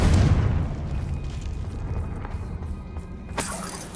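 A Confringo fire spell in Hogwarts Legacy gives a loud booming blast at the start, a rumbling burst that fades into a lingering roar, with a sharp crackling impact near the end.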